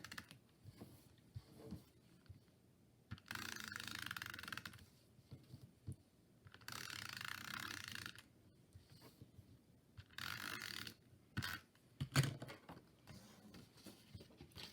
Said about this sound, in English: I'm just using some Snail Adhesive. It's just a double-sided tape